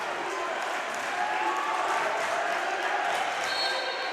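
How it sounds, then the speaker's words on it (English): A basketball crowd at a Lynn men's game roars steadily in cheering for Lynn's scoring run, a dense, sustained wall of noise from start to finish. "I'll let the crowd speak for itself on how they feel about this run that Lynn's on."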